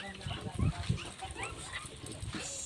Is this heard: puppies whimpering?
yes